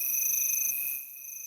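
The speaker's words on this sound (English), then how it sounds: "Give him the crickets." Cricket chirps played as a sound effect, a steady high-pitched trill that continues alone, with a low background murmur dropping away partway through.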